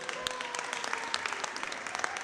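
Crowd applause at a groundbreaking ceremony for the Geneva Car Barn and Powerhouse, honoring former Supervisor John Avalos: a dense, steady patter of many hands clapping at moderate distance.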